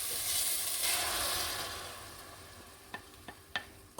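Ginger garlic paste sizzles in a hot pan, a steady frying hiss that fades gradually, then a few sharp stirring clicks and scrapes near the end, close and fairly quiet.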